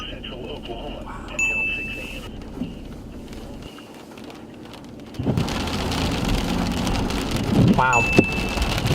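Rain during a thunderstorm in Tulsa/Owasso, Oklahoma, first a quieter patter, then a heavier steady downpour swelling in, with people exclaiming over it.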